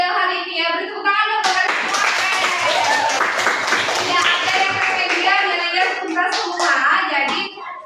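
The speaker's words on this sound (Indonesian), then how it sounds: "Beri tepuk tangan dong buat kalian semua." Schoolchildren in a classroom clap together after a lesson, a lively burst of rapid handclaps that starts suddenly and runs on with young voices chattering and calling over it, then cuts off.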